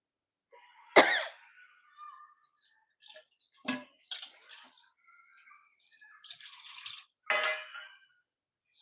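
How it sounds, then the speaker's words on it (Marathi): Several sharp coughs and throat-clearing bursts break out in a home kitchen while a Malvani-style field bean curry is being tempered, spaced apart by quiet gaps and sounding close. "सॉरी तुम्हाला खोकल्याचा शिंकेचा आवाज येत असेल त्याबद्दल"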